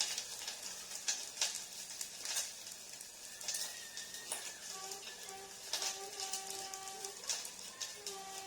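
Garlic fries in oil in a pan with a soft crackling sizzle and scattered pops, steady and close, while faint tonal sounds drift in the background.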